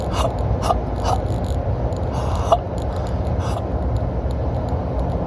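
Several short, sharp hiccup-like catches of breath as the epiglottis closes during inhalation, spaced irregularly, made close up by a person over a steady low background rumble.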